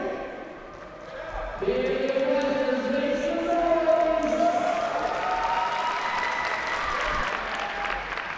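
Spectators applaud at a table tennis league match between the Seattle Spinners and Bay Area Blasters, clapping rising after a quiet start and holding steady beneath a commentator's voice.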